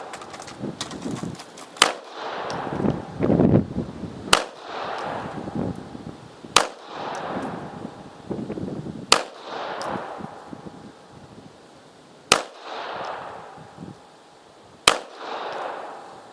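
Six sharp, loud gunshots from an Astra A-60 pistol chambered in .380 Auto at a pistol range, fired at slow, uneven intervals with faint rustling between them.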